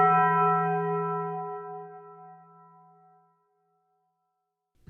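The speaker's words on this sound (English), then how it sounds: "When you hear church bells, I'm assuming you, and, well, most other people, normally think of something like this." A single church bell strikes once and rings out, its rich harmonic tone decaying slowly over about three seconds into silence, followed by a brief soft thump at the very end.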